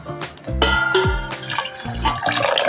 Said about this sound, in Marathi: अजून पाणी लागेल थोडं।